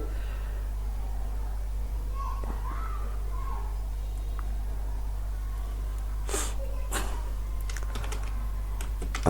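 HTML code is typed into Notepad on a computer keyboard, with irregular bursts of key clicks over a constant low hum, close and fairly clear, with no speech.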